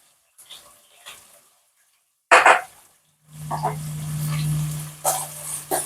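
Onion paste and coriander frying for chicken curry, a loud sizzle rising after a sharp clatter and holding steady with a low hum, with brief bumps of pan noise before it.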